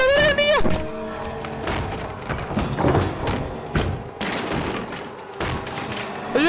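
Gunshots in Little Nightmares 2, several sharp thudding blasts scattered among clattering impacts, with excited voices shouting over the action.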